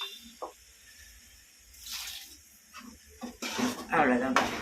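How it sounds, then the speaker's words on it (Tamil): Water splashes and sizzles into a hot pan of eggplant and drumstick curry in short bursts that grow louder toward the end, with a voice speaking in between. "தண்ணி ஊற்றிட வேண்டியது தான்"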